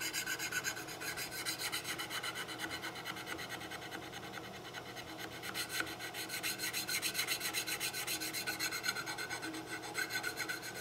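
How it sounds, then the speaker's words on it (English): A mill file rasps across a brass butt plate in continuous rapid back-and-forth strokes, close and moderately loud, with no one speaking. "the mill file leaves a little finer finish than the file we used on the rest of the butt plate"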